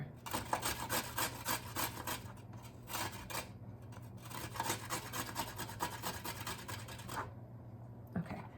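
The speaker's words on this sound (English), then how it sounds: "But we want to hide it, so we're going to go ahead and grate it up" A carrot is grated by hand on a metal grater for a chocolate brownie mug cake, giving repeated rasping strokes in quick bursts, close and fairly loud, with a short pause midway and no talk.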